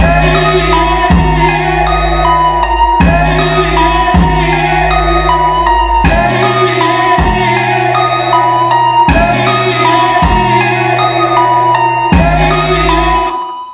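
A hip-hop beat's outro plays loud and steady, deep 808 bass notes thumping in a repeating pattern under layered melodic parts, with no voices over it.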